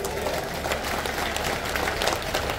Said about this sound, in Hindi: तो बजाओ ताली, बजाओ ताली।